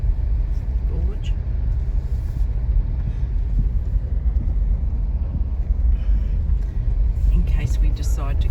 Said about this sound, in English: We're just having a drive through the camping area here at Trofino